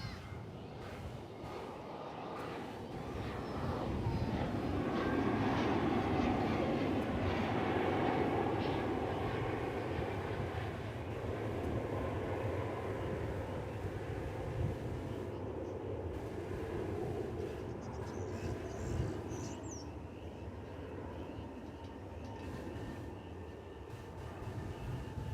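A United airliner's takeoff roll on runway 18 left at Dallas/Fort Worth airport, a broad, steady engine rumble building and sustained at a distance with no voices.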